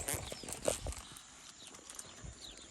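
Horses gallop on the track at Parque Guarani, their hooves making faint, quick clip-clop thuds that come in uneven bursts and fade somewhat toward the end.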